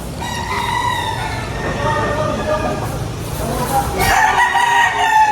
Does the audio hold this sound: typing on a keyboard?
no